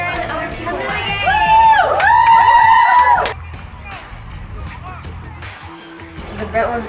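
A crowd at a varsity high school football game cheers and shouts, with high children's voices rising loudly for a few seconds before settling into general chatter and hubbub.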